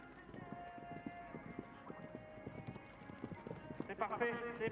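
A mare's hooves clip-clop in a steady rhythmic gait around a show jumping arena, under continuous French commentary, growing a little louder toward the end.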